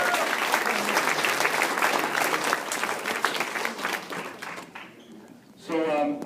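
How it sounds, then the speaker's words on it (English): Crowd applause at a newspaper reunion presentation rolls on as dense clapping for several seconds, thins and fades, then a voice begins speaking as it dies away. "Let's give a round of applause for your hometown newspaper."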